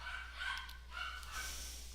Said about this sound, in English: My dog is barking really loud, and I have no idea if you guys can hear it